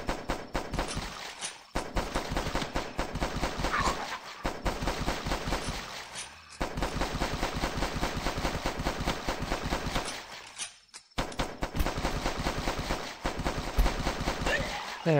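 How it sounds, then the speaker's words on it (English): Pistol gunfire in the video game The Last Stand, rapid repeated sharp shots in long bursts broken by short pauses, loud and close with no talk. "Oh, this pistol is really not that good."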